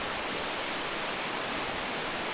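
Sekumpul waterfall in Bali, a steady broadband rush of falling water that stays even and unbroken throughout, heard from an overlook.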